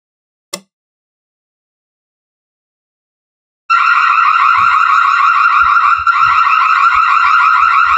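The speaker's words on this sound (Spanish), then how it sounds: "Aparte vamos a escuchar la alarma." A single click, a few seconds of silence, then a Reolink Duo 3V PoE security camera's loud, steady electronic alarm siren wails continuously, close by, with faint low thumps underneath.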